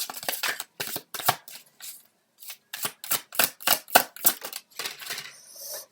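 Tarot cards are shuffled close by in quick riffling bursts separated by short pauses, crisp and fairly loud, with no talking.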